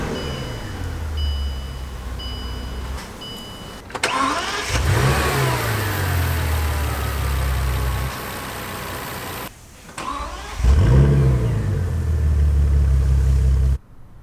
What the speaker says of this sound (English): you just heard the sound of its 6-liter twin-turbocharged W12 engine